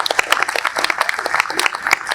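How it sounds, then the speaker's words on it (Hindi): A mushaira audience bursts into dense, lively applause, many hands clapping close and loud in a continuous rattle, with no speech over it. "एक बार सब दोस्तों के लिए भरपूर तालियां बजाएं।"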